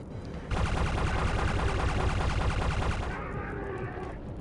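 Rapid gunfire from the 2001 role-playing game Anachronox rattles out in a fast, sustained burst of shots lasting a few seconds, then cuts to a quieter tail of lingering game sound.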